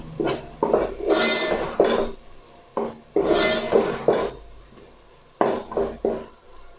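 A spoon stirs ground red chilli, turmeric and salt into a masala in a metal cooking pot while making aloo matar, with repeated loud scraping and clanking bursts and short pauses between strokes.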